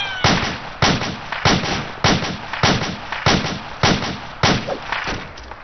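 AI soldiers in the ARMA 2 video game fire in a steady series of about ten evenly spaced heavy shots, each a sharp loud crack trailing into a short echo.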